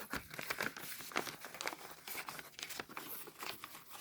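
A Hello Kitty package being torn open, its plastic wrapper crinkling and crackling in a steady run of close, busy rustles with no voices.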